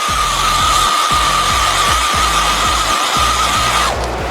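A heat gun blows steadily while a metal awl is pushed again and again into a heated plastic drain tube to widen it for a water leak repair on a 2006 Chevy Impala SS, with a low rhythmic thumping throughout.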